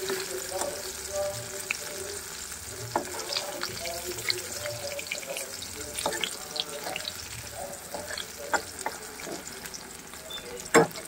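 Brinjal pieces sizzle and fry steadily in a pan, a continuous hiss broken by scattered sharp pops and spatters, close and moderately loud with no talk.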